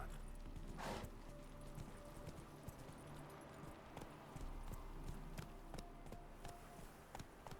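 Horse hooves clip-clop at a steady trot in The Witcher 3, close and rhythmic across the whole stretch, with faint game ambience behind.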